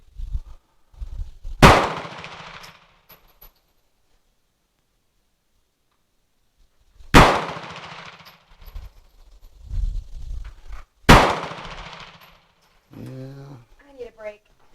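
A light handgun fires three loud, sharp shots at a shooting range, several seconds apart, each with a brief ringing decay; people talk quietly between the shots.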